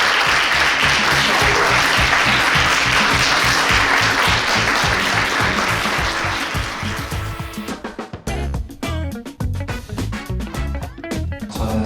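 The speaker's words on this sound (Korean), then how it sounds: "뜨거운 박수로 맞아주시면 감사하겠습니다" Audience applause welcoming guests onto a stage, a dense, loud roar of clapping that holds for several seconds, then thins into scattered individual claps as it dies down.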